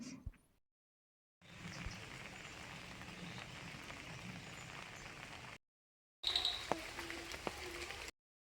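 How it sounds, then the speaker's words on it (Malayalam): Steady rain falling outdoors, a soft even hiss that cuts in and out between silent gaps, fairly faint and distant, with a few brief knocks and no speech. "അവർ പോയി കഴിഞ്ഞപ്പോൾ തന്നെ നല്ലൊരു മഴയും പെയ്തു കേട്ടോ"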